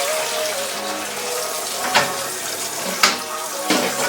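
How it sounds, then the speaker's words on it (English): Kitchen tap water runs steadily into a sink with a constant splashing rush, a few louder clunks or splashes breaking through. "so you're going to turn the water on"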